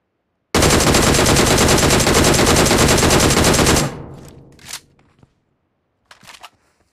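Sustained Uzi submachine-gun fire in a video game, a loud continuous burst lasting about three seconds aimed at an enemy, followed by a decaying tail and a few brief scattered clicks and game effects.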